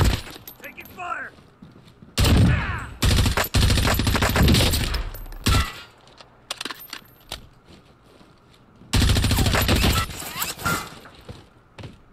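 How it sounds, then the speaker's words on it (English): Bursts of automatic rifle fire from an M4A1 in a first-person shooter game, loud rapid strings separated by quieter stretches with distant shots and clinking sounds. "Taking fire!"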